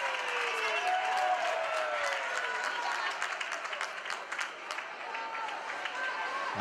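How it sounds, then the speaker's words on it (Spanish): Spectators at a Spanish league handball match between CHH Txuri Urdin and Kosner CH Huarte applaud steadily from the stands, a dense wash of clapping with scattered shouts and court noise throughout. "Aplausos del público hacia sus jugadores."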